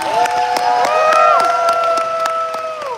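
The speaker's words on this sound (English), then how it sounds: "Give a last round of applause for them all" An audience at a Sonic expo content creator Q&A applauds and cheers, a loud, close wash of clapping with sharp claps and whoops rising over it for a few seconds.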